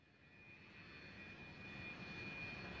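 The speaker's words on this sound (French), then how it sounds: "alors que son avion se pose à l'aéroport de Riyad" A passenger airplane touches down at Riyadh airport, its engines giving a steady, broad roar with a thin whine riding on top that swells slightly louder over the short span, with no voices.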